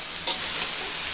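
Malabar spinach (pui shak) being stirred in a large wok, giving a soft, steady sizzle with a brief scrape of stirring near the start, close and continuous.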